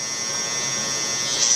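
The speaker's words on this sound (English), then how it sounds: "Flip the clipper over, get any excess hair that's not supposed to be right there underneath the lineup." An electric hair clipper running steadily close up during a low taper haircut, a constant bright buzz that swells slightly near the end, with no talk.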